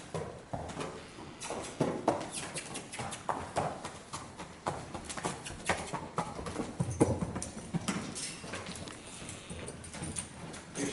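Irregular thudding hoofbeats of a horse shifting and stepping about on the ground, fairly close, with no talking.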